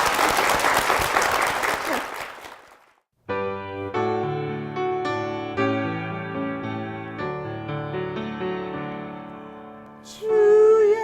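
A burst of applause from a church congregation fills the first few seconds and fades out, followed by gentle piano music.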